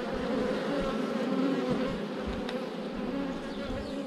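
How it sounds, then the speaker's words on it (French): Honey bees buzz densely around crowded hives in an apiary, a steady close hum of many insects with no voices. "Les abeilles qui cherchent à passer par le moindre petit trou."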